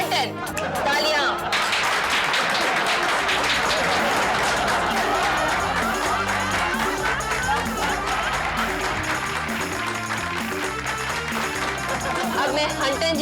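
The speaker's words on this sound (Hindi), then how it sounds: "तालियां।" A studio audience for the sitcom Hum Paanch breaks into dense, sustained applause that fills the room for over ten seconds, mixed with crowd noise.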